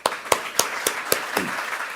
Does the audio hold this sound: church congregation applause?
yes